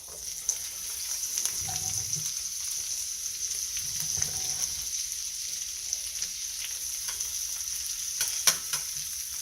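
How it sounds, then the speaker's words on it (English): Sweet peppers sizzling steadily in a pan for a breakfast vegetable hash, a constant bright frying hiss with occasional soft scrapes and clinks of stirring. "So we've got our sweet peppers going in there."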